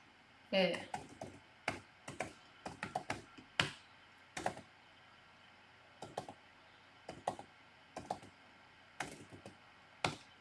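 Keywords typed on a computer keyboard during a software tutorial: irregular bursts of close, crisp key clicks separated by short pauses, with a louder keystroke or two mixed in.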